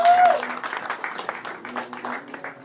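An audience applauds a guest speaker, Dorje Gurun, at a talk about volunteering in Nepal. A burst of clapping gradually thins into scattered claps over the whole stretch.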